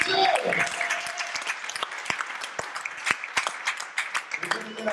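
A church congregation applauding and cheering in praise of God, sustained clapping of a crowd with sharp individual claps standing out, while a preacher's voice speaks over it.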